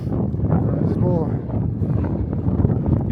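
Strong gusting wind buffets the microphone on an exposed mountain ridge near Kladivo, a steady broadband roar lasting throughout with no pause, loud and close, with a voice briefly mixed in.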